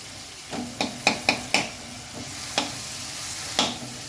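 Tomatoes fry in a pan under a soft sizzle, punctuated by about eight sharp clinks and scrapes of stirring, clustered early and then spaced out, with no talking.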